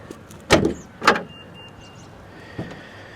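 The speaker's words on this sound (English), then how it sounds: "Open the trunk." The trunk of a 2022 Nissan Altima SV is released with two close, firm mechanical thunks, followed by a faint electronic tone and a softer final clunk.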